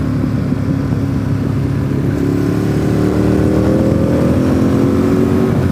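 A motorcycle rides along a road with worn tires, its engine droning loudly and steadily up close, pitch rising gradually as it accelerates under heavy wind rumble.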